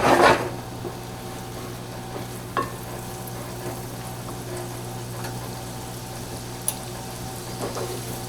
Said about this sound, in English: Make sure that you just saute a little bit, gives a nice flavor, a couple of minutes.